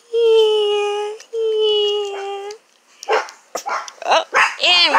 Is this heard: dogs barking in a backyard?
yes